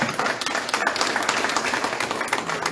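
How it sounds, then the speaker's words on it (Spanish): A church congregation applauds, with dense, steady clapping from many hands that fills the room continuously and fairly loudly, with no clear voices over it. "Denle un aplauso grande al Señor"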